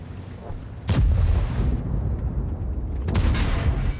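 Tank cannons fire in a tank video game, two loud sharp booms about two seconds apart, each followed by a rumbling decay over a continuous low engine drone.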